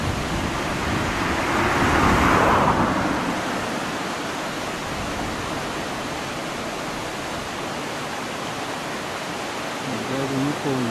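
At the mouth of the Tainokawa river, the Sniveru waterfall pours toward the sea in a steady broad rushing roar, loud and unbroken, swelling briefly early on.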